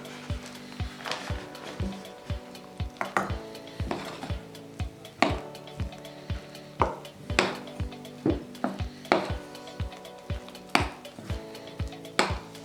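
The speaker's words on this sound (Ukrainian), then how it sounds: "Давай додаємо помаленьку трошки муки. Давай, я буду розмішувати" A spoon knocks and scrapes around a bowl as flour is stirred into potato dough, giving a steady series of clinks and taps at a moderate pace, close and fairly quiet.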